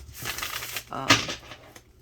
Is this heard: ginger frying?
no